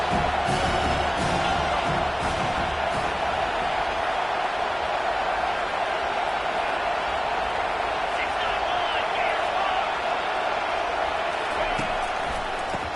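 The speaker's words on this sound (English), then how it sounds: "The crowd getting behind this defense as they try to get a stop in the red zone." A stadium crowd in the college football video game NCAA '25 cheers as the defense tries for a red-zone stop, a loud, steady roar that runs throughout with no letup.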